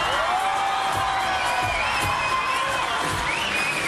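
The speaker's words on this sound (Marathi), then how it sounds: "जोरदार टाळ्या झाला पाहिजेत" A studio audience at a Marathi television comedy show cheers and whoops in a loud, continuous crowd roar with scattered clapping, steady throughout with no talk over it.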